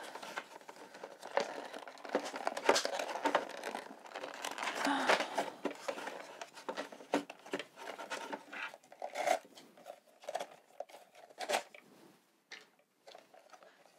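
Scissors snipping through cardboard packaging ties on a toy chick house box, a run of close, crisp clicks and crinkling rustles in irregular bursts with quiet gaps.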